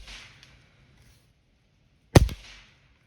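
A single sharp shot from a Crosman 362 pneumatic air rifle at a target, a short loud crack with a quick metallic ring, close and alone against near silence.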